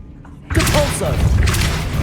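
A Depulso spell cast in the Hogwarts Legacy video game, set off by a short shouted voice: a sudden booming blast that cuts in from near quiet and rolls on as a thick, rumbling force effect.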